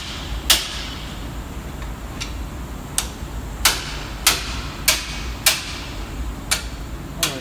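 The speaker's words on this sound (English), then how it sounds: "Alright, so it took a little gentle tapping." A hammer tapping a seal into a Ram 2500 axle, about ten sharp metallic knocks spaced unevenly over several seconds, close and distinct above a low steady background rumble.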